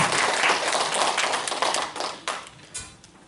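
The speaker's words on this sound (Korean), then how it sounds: "박수 한번 해드릴까요?" Brief congregational applause in a Korean church service, a short burst of clapping from a modest group that thins and fades out within a few seconds, with no talking.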